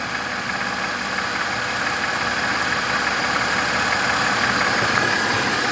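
A 2011 Mercedes-Benz E300 engine idles steadily with a smooth, even hum that holds at a constant level from start to finish, with no talking.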